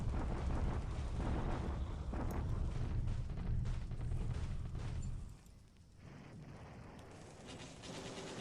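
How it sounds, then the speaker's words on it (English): Heavy rumbling explosions from a bombardment attack in a Pacific war strategy video game, a dense continuous roar of blasts that drops off after about five seconds, then a quieter rumble continues. "Bombardment attack into Gula."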